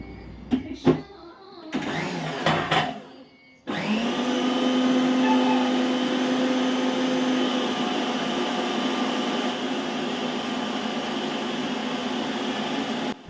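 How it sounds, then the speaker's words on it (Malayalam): A kitchen mixer grinder churns dough in its jar with a steady, loud motor whine that runs unbroken from about a third of the way in. Before it starts, there are a few clattering knocks of the jar being handled. "ഇതിനെ ഒന്ന് നല്ലതുപോലെ മിക്സിയിലിട്ട് അടിച്ചൊന്ന് കുഴച്ചെടുക്കണം"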